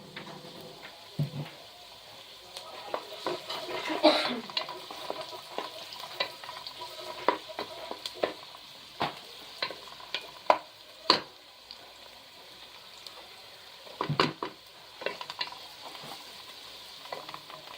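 Garlic sizzles steadily in hot oil for Noakhali-style dudh kochu taro leaf bhaji, broken by scattered spoon clinks and scrapes against the pan as it is stirred, close and fairly quiet with no voices.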